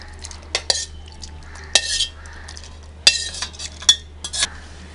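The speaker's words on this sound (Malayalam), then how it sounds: "ഇത് നമുക്കിതൊരു മിക്സി ജാറിലേക്ക് ഇട്ട് കൊടുക്കാം" Cooked onions, tomatoes and green chillies for a vegetable curry are spooned into a mixer jar, giving several sharp metal clinks and scrapes against the jar in short bursts, with no speech.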